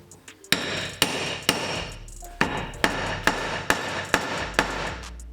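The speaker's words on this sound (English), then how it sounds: "So I'm just going to hammer this so that it's a little bit tighter." Sharp metallic hammer blows on a rattling Chevy Express brake pad ring out at a steady pace, about a dozen close strikes each followed by a short ringing decay.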